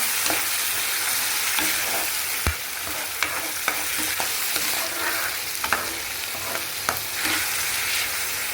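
Tomato paste frying with liver in a pan while being stirred: a continuous moderate sizzle broken by repeated scraping and tapping strokes of the spoon.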